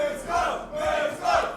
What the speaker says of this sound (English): I think Evesy is feeding off the crowd